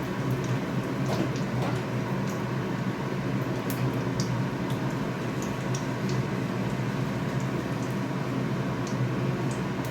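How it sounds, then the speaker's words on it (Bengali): Pointed gourd (potol) frying in oil in a pan, a constant close hiss and crackle with small scattered pops, steady throughout and with no talking. "এবার পটলটা দিয়ে ভালো করে ভাজি, লাল লাল করে"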